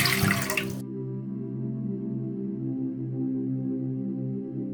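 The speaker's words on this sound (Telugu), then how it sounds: "ఇందులో వాటర్ పోసుకోవాలి." Water is poured into a pan on a lit stove for a noodle and chilli paneer dish: a brief, loud splashing rush for under a second, then a steady low hum carries on alone.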